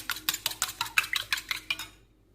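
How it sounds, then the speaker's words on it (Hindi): Eggs beaten in a bowl for khoya gulab jamun batter, a quick run of about a dozen rhythmic whisking clicks and scrapes against the bowl, close and fairly loud, ending in quiet. "अंडे को तोड़ेंगे, पहले फेंटेंगे"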